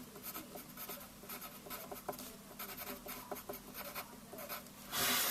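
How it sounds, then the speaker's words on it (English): Someone handwrites the word "enlargement" during a maths lesson on enlargements: steady, close scratchy pen strokes in short bursts, ending with a louder, rougher rub. No one speaks. "all I simply do is I write down the word enlargement"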